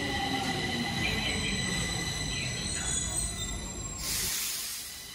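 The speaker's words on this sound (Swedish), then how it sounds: "Nu när tåget åker iväg här" A metro train pulls away from Rissne station, a steady rumble of wheels and motors with high tonal whine, fairly close and continuous, swelling into a brief hiss near the end.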